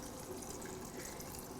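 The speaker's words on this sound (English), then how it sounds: "So we're going to pour the liquid in that's remaining in our bowl" Leftover sauerkraut brine poured from a bowl over packed shredded cabbage: a steady, close, soft liquid trickle and splash with no voices.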